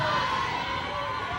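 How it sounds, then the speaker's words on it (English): Crowd noise from spectators at a 1983 Coke Handicap boys bowling final, a steady broadband wash of applause and cheering with some higher voices mixed in, held at an even level throughout. "Still gets a great round of applause from a crowd"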